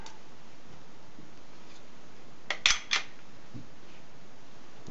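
Metal parts of a Smith & Wesson M&P9 pistol click into place during reassembly as the sear lever is moved, two or three sharp close clicks in quick succession over a faint room hiss.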